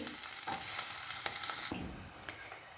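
Chopped onions frying in oil in a pan for a dried fish roe curry, a bright crackling sizzle with a few stirring scrapes, fading a little toward the end, no voices.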